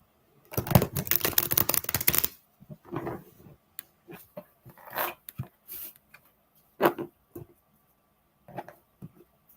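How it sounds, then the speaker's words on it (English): Tarot cards are shuffled in a fast riffling burst, followed by scattered softer taps and flicks of cards being handled, close and quiet. "Let me get the card shuffled up for you."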